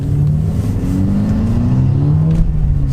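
A warmed-up SEAT Leon Cupra engine revving up under steady acceleration, its droning pitch climbing gradually, loud and close throughout.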